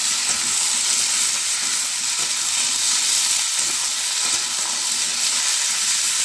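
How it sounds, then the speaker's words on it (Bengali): Fish frying and being stirred in a pan for papaya ghonto, a loud, dense, continuous sizzle close up with faint scraping of the utensil underneath, steady throughout with no talking. "ভালো করে মাছগুলো কষিয়ে নেবো"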